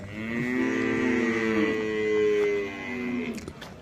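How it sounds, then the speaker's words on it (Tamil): Cattle at the Valliyur cattle market, mostly Jersey cows, give a long drawn-out moo that swells and fades, heard fairly close over a low background murmur. "ஃபுல்லாக ஜெர்சி மாடு வந்திருக்கு"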